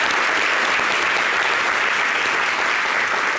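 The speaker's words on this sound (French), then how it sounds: "On applaudit pour lui." A studio audience at a Yvidero Show broadcast claps in a dense, steady roar of applause, loud and sustained throughout with no pauses.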